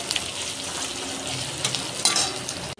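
Sliced onion frying in oil in a pan for a prawn malai curry, a steady close sizzle with stirring scrapes and a sharper burst near the end, no talking.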